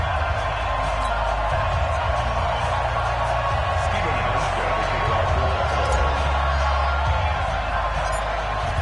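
A video game NFL stadium crowd roars steadily as the Buffalo Bills and New England Patriots set to kick off in Foxborough. Cheering stays dense and loud throughout, and a commentator talks over it.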